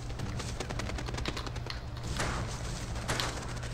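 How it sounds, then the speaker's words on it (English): Rapid pistol shots ring out in the Western video game Gun as quail are hunted, a fast train of sharp cracks over a steady low hum, with a couple of louder blasts standing out. "Shooting quail with a pistol."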